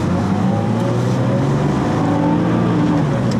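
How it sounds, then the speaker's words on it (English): An air-cooled Porsche 911 RS tribute car drives with a continuous, loud, throaty engine drone heard from close inside the car, steady throughout with no talk. "So that air-cooled engine is unlike any other engine note that I've ever heard."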